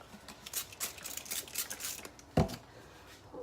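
Scissors snip across the top of a package in a quick run of close, crisp cuts, followed by a single sharper snap or tear.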